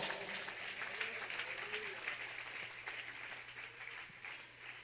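Congregation applause in a church, steady soft clapping that is loudest at the start and gradually fades, heard fairly distant with a faint hum underneath.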